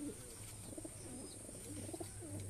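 Fancy flying pigeons cooing softly in a loft, several low, rolling coos repeating in gentle phrases over a steady background hum, with faint talk nearby.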